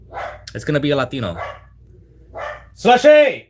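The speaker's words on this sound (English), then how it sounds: "Sorry, that was my dog." A pet dog barks in short sharp bursts near a microphone, mixed in with a man's speech during an online discussion; barks come in a couple of quick clusters.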